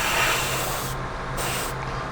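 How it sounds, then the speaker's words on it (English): An airbrush sprays paint onto a 1/25 scale MPC Torque Trike model kit, producing a close, steady hiss that cuts in and out in short bursts, with no talking. "simply spraying it like that's going to leave you with a real soft edge on that"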